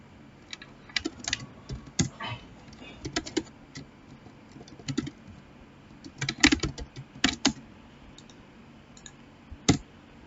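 A git clone command is typed on a computer keyboard, with irregular bursts of sharp close key clicks and short pauses between keystroke runs, and no speech.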